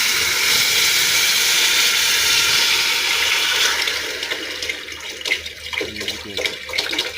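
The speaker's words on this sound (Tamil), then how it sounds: "அந்த புளியை அதில் அப்படி லைட்டாக ஊற்றணும்" Tamarind water is poured into a pan of sheela fish curry, a loud rushing pour for several seconds that thins out into scattered splashes and drips.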